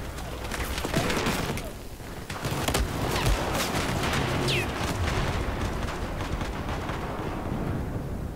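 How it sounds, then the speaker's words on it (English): Repeated grenade blasts and rapid gunfire in a Battlefield 4 firefight, a dense, continuous barrage of booms and crackling shots with no pause across the whole stretch. "This becomes a festival of grenades."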